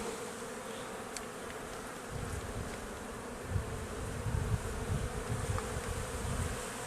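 Buckfast honeybees buzzing over a hive frame holding honey during an open hive inspection, a steady dense drone close by with individual bees whining past, no talking.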